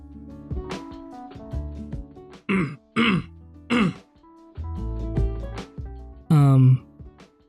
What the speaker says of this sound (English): my cough is getting better, but I still have, some phlegm behind my throat